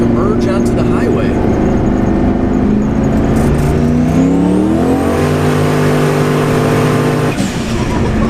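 A turbocharged LS1 in a 2001 Trans Am WS6 downshifts and accelerates, the engine note climbing with a whistling turbo whine rising above it. It then settles into a steady, loud drone heard from inside the car.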